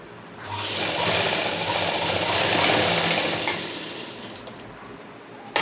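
Sewing machine stitching pant fabric, a fast, even mechanical whirr running for about four seconds after a quick start, loud and close, then slowing to a stop with a small click at the end.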